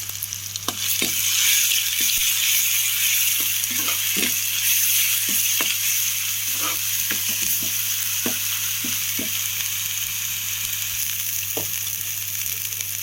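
Paste of cinnamon, cardamom, cloves, onion, ginger-garlic and poppy seeds frying in a hot pan, a steady close sizzle broken by scattered light taps of stirring, with no voices.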